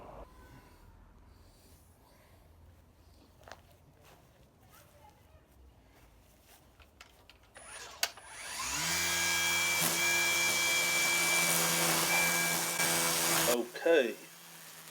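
A Ryobi OLT1833 grass trimmer cutting a long lawn edge starts abruptly after quiet handling noises, then runs as a loud, steady whining drone for several seconds before cutting off sharply, followed by a brief clatter.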